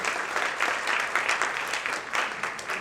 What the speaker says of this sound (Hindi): अंजना समधीर और संध्या रियाज के लिए पहले हम एक बार जोरदार तालियां बजा दें उनके पुस्तकों के लिए